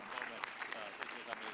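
Mission managers in a control room applaud after the first Ariane 6 heavy-lift rocket launch, a steady dense clapping from a group heard over a talking voice.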